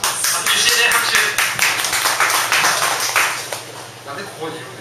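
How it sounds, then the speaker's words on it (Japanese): An audience claps for a speaker who has just introduced himself at a Japanese talk event: a loose, uneven patter of hands under ongoing conversation, fairly close and steady before thinning toward the end. "拍手してね、拍手。"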